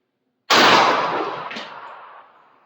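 A single loud, close gunshot from a firearm shooting 5.7x28 reloaded ammunition, a sharp crack followed by a long decaying echo tail lasting about two seconds, with no talking.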